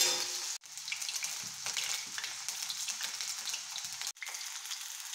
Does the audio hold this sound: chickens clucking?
no